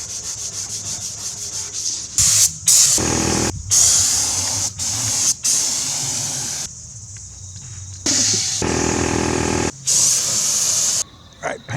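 Spray gun applying lacquer paint to a Unimog RV body, heard as close, loud bursts of airy hiss that start and stop repeatedly, with short silent gaps between passes.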